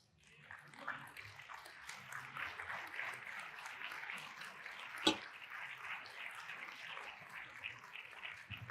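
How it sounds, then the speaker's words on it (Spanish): Church congregation applauding during a sermon, soft diffuse clapping rising and holding at moderate distance, with one sharp nearby knock or bump partway through. "Eso merece un aplauso, hermano."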